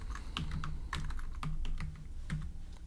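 Typing on a computer keyboard, a quick uneven run of close key clicks and taps with a few heavier keystrokes, heard alone without talk.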